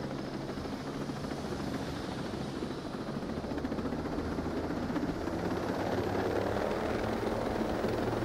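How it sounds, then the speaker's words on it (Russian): Helicopter in the military shooter Ghost Recon Breakpoint: a continuous close rotor thrum and engine whine that holds steady and swells slightly toward the end, with no talk over it. "На вертолете еще полетим."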